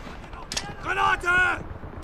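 Grenade blast and gunfire in a World War II shooter played on an Asylum map with a Gewehr 43, heard as a sharp burst followed by two loud, noisy rumbling bursts close by.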